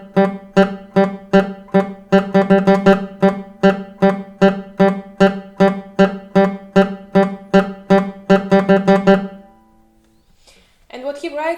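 A classical guitar plays a speed-burst exercise with alternating fingers, first in even plucked notes and then in faster groups, ringing clearly and close up, before stopping and giving way to a brief trailing noise.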